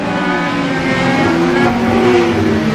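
Race cars at a supercross event on a track for 1500cc modified cars, mostly Hondas, roar loudly and steadily as engines accelerate, a dense continuous engine drone with rising pitch.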